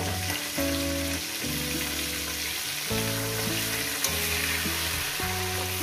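A fish head sizzles and crackles steadily in hot oil, a close, continuous frying hiss with no voices.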